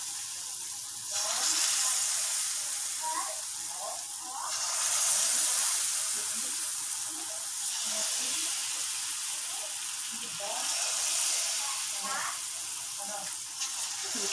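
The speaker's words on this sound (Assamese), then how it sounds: "এতিয়া ইয়াত মালপোৱাখিনি মই ভাজিম।" Banana pitha batter fries in hot oil with a soft continuous sizzle and hiss, swelling in waves as small portions are added, with a few light clinks of utensils.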